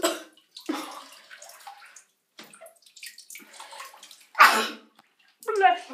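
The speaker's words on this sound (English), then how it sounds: "I just sneezed." A single loud, close sneeze bursts out from a person sitting in an ice-cold bath, with water sloshing in the tub and soft talking before it.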